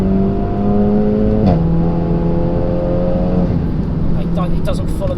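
Toyota Supra Mark IV pulling hard in second gear on Yokohama Advan Neova AD09 tyres, a loud, close engine drone rising in pitch, dipping briefly with a quick shift-like break, then climbing again under continuous road noise.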